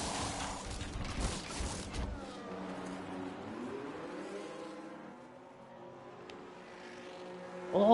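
A race car in a racing video game enters the pit lane at the Austrian circuit, its engine loud at first, then dropping to a steady lower drone as it slows, with gear and pitch shifts toward the end.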